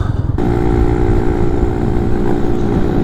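Street-legal Honda Z50R minibike cruising steadily on a highway at about 30 mph, around 4,000 rpm, a constant close engine drone mixed with wind rush and no talking.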